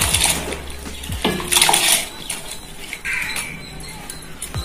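Soaked and drained basmati rice for mutton biryani tips into a pot of boiling water, with splashing and sloshing bursts over a bubbling, hissing boil.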